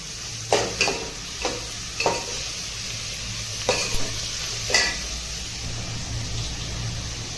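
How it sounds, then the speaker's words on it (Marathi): Tomatoes added to reddened onions in a pan sizzle steadily under a low background hiss, with several sharp stirring scrapes and clinks of a utensil against the pan at irregular intervals. "आता त्याच्यामध्ये आई टोमॅटो टाकते बघू शकता तुम्ही चांगला असं परतून घ्यायचं"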